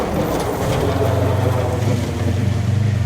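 A Subaru rally car on a rally stage gives a steady, close engine drone with a pulsing low note that rises slightly in pitch, heard under wind buffeting on the microphone.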